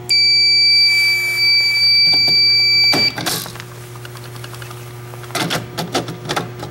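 A Skills USA fire alarm demonstration board sounds during a system test: a loud, steady electronic alarm tone holds for about three seconds, then cuts off, followed by a few sharp clicks and handling noises.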